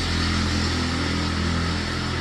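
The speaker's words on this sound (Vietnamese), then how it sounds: "Đang đi ngoài đường, nhiều khi đi xe máy nó ồn lắm" Motorbike engine noise in Vietnamese street traffic, a loud, steady, close drone with low engine harmonics throughout, no talking.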